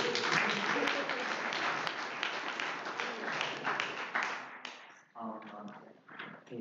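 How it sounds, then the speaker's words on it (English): A debate audience at the University of Cincinnati gives a short round of applause, dense clapping that fades out after a few seconds into a quieter room. "short round of applause for last question."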